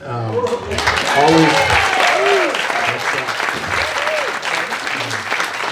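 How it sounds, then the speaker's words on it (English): Audience applause at an award ceremony honouring a trust company, a steady wash of clapping with a voice speaking over it throughout. "big round of applause for them"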